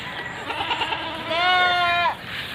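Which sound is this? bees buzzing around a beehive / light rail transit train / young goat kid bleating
young goat kid bleating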